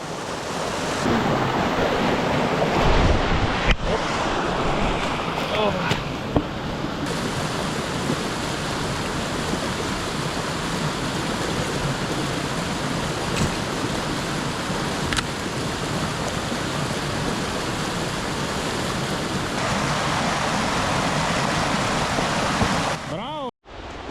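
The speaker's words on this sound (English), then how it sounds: "we are in the rainy season and currently there is a lot of water in the river" Loud, steady rush of a swollen river in the rainy season in Bulgaria's Central Balkan mountains near Levski peak, a broad continuous roar of churning water filling the whole stretch, with gusty wind on the microphone.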